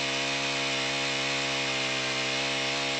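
A gas-powered winch drags almost 600 feet of rope up a snowy hillside during a snowmobile recovery, its small engine droning steadily and loudly with a constant harmonic whine and no pauses or talk.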